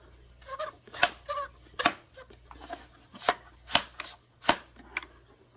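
The primer valve on a Fluval 407 canister filter is pumped by hand, producing about nine sharp, close plastic clicks and squeaks in an uneven rhythm, each one brief and distinct over a quiet background.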